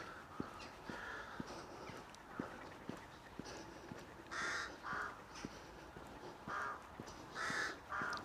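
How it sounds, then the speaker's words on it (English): Crows caw repeatedly at a distance, harsh calls in short bursts, over faint outdoor background with scattered clicks and light tapping. "have the crows up there."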